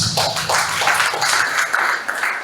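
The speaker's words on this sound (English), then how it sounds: "Please, one more time, a round of applause, please." A town hall audience at a meeting on Nigeria's 2025 budget gives a round of applause after a presentation, with dense, steady clapping holding at an even level throughout.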